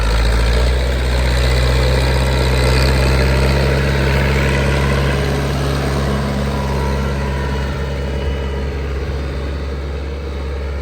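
KENTAVR 404SD tractor engine running steadily while plowing wet, loose virgin soil in low fourth gear, a loud continuous low rumble with vibration and no talk.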